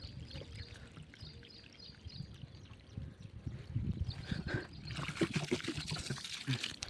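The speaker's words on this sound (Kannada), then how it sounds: "ನೀರು ಹಾಕೊಂಡು ಹೋಗೋಣ" Water poured onto plants during household cleaning before a festival, a soft steady trickle and splash that grows louder and denser in the second half, with faint background noise.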